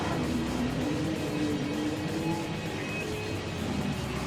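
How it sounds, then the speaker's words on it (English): A car in Gran Turismo 7 drifting with wheelspin, its engine droning steadily at high revs under a dense, constant roar of tyre and road noise, loud and unbroken throughout. "I decided to just try some drifting with it."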